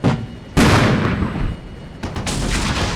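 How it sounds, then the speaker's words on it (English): In the Armored Brigade 2 video game, a missile strikes a unit: two sharp, heavy blasts land a second and a half apart, each leaving a rumbling tail, with no talk. "Nope, that missile hit."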